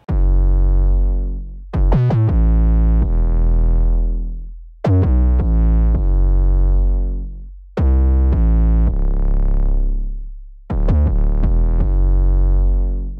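Heavily distorted 808 bass playing a rhythmic pattern sidechained to the kick, with deep booming notes that swell and duck in a pumping cycle, repeating in four loud phrases with no voice.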